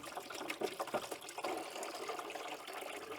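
Water runs and splashes through the PCV system of a Renault Clio engine during a clean-out, a steady close trickle and gush lasting a few seconds with no talk over it.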